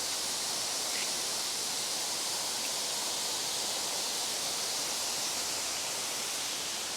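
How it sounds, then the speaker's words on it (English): Erawan Waterfall in Kanchanaburi, Thailand, pouring as a steady, dense rushing roar of falling water heard from nearby, unchanging and without speech. "There's another waterfall there."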